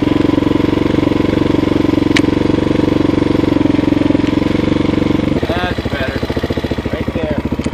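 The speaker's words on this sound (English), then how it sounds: "Once it breaks in, the idle gets a little bit more consistent too." A TaoTao TBR7 230cc dual-sport motorcycle idles close by, a steady, loud thump that turns rougher and more pulsing near the end, with no one talking over it.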